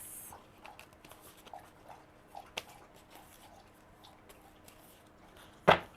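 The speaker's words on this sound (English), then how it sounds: "I know the dog is drinking and eating" A dog drinks and eats nearby, making faint, rhythmic lapping and chewing clicks over a quiet background, with one sharper knock near the end.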